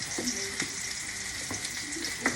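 Garlic frying in a pan until slightly over-browned, a steady close sizzle with a few soft clicks and scrapes of stirring, no talk.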